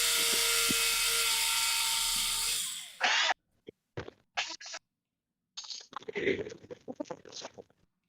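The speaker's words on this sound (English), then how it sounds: "This is a Tamiya drill kit." A Tamiya hand drill kit runs with a steady mechanical whir for about three seconds, then winds down, followed by short bursts of clicking and scratching handling noise.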